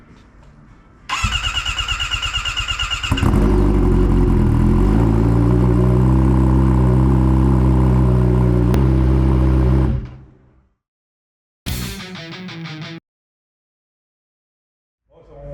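Turbocharged Kawasaki ZX10R motorcycle engine starting: a starter whirs for two seconds, the engine catches and idles loud and rough for about seven seconds, then cuts; after silence a brief starter whir returns.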